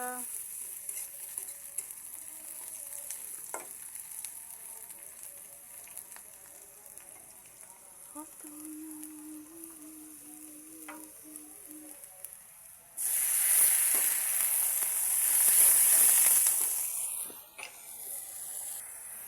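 Spices stirred in a hot frying pan give a soft scraping, sizzling texture that swells into a louder, hissing burst near the end, heard close and alone without talk.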